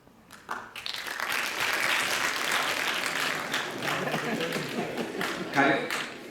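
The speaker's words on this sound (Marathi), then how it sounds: "त्या कवीसाठी टाळ्या वाजवा" An audience at a lecture breaks into sustained applause, many hands clapping together in a dense, steady roar that holds for several seconds before easing slightly.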